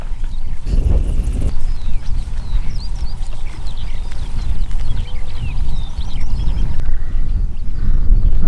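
Skittish horses and cows running across open moorland on a tor, with a continuous rumble of hooves on the ground, some birdsong and wind behind it, fairly close and steady throughout.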